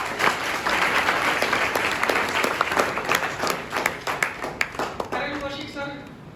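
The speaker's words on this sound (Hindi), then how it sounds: "तो एक बार जोरदार तालियां सर।" Students preparing for the CET exam applaud in a dense, lively burst of clapping with some individual sharp claps standing out, tapering off after about five seconds as a voice speaks over the tail.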